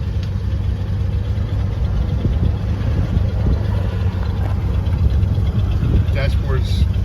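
A 1986 Ford F150 idling after a cold start, a steady low engine rumble held at an even level throughout, close by, with someone talking over it.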